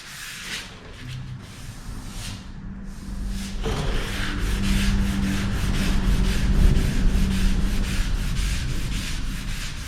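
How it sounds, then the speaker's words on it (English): Car parts are hand sanded with 320 grit paper, a continuous close scratchy rubbing that grows louder and denser after the first few seconds, alone without talk. "I'm gonna go ahead and get all these parts sanded out for 320, and then I'll go to 400."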